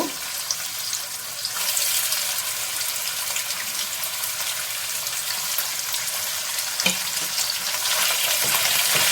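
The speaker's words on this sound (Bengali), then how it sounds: "দেখো এবার আমি প্রথমে একটু পনিরগুলো ভেজে নেব" Paneer cubes fry in a pan with a continuous close sizzle and crackle, steady in level with a few faint clinks, and no talking.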